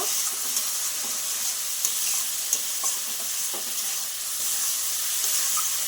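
Spice paste and potatoes frying in a pan for a fish roe dish, with a steady sizzle and soft scraping stirs throughout, close and moderately loud, no voices.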